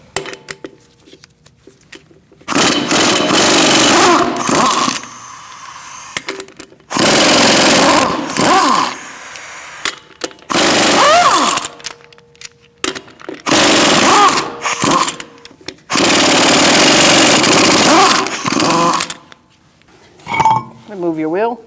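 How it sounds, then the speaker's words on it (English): Loud bursts from a power impact tool spinning off wheel lug nuts with a 19mm socket on a 2016-2019 Chevrolet Cruze, several long rattling runs separated by short pauses and clinks. "I'm using a 19mm socket, and we're going to remove the lug nuts."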